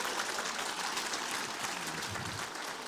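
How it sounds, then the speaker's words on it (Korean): A crowd at a Korean team-leader promotion ceremony claps in a steady, even wash of applause, moderately distant and fairly quiet, with no voices over it. "큰 박수 부탁드리겠습니다."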